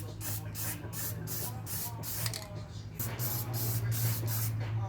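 Spray can paint being applied in pink to a Mazda Miata in a driveway, a series of short hissing bursts with brief pauses between them, steady and close, over a low background hum.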